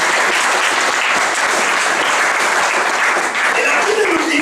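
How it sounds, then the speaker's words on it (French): A church congregation breaks into sustained applause to acclaim the Lord during a sermon, a dense, steady clapping that fills the room for several seconds with a murmur of voices underneath. "Est-ce qu'on peut acclamer le Seigneur?"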